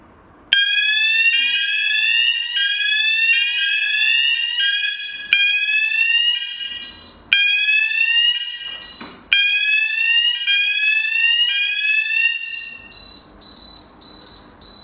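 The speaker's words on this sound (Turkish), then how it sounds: "Şimdi ikinci zondan da alarm vereceğim." A loud electronic alarm from a C-Tec EP203 fire extinguishing control panel sounds continuously, repeating rising sweeping tones in a steady pattern with a few brief clicks, close and unbroken.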